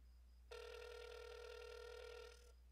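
A telephone ringing on a call waiting to be picked up, one steady two-second ring tone heard through the line, faint and alone over a low hum.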